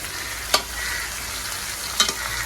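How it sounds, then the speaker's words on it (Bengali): Raw mango pieces fry in oil with a steady broadband sizzle, broken by two sharp stirring clatters, one early and one near the end. "কোনো মশলা দিব না, তেলের মধ্যে আম কিছুক্ষণ মজাই নিব।"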